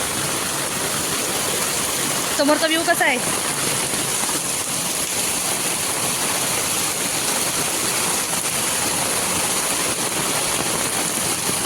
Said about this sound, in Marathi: बघा प्रत्येक ठिकाणी पाणी पडतंय